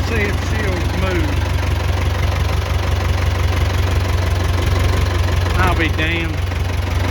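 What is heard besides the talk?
old vehicle engine idling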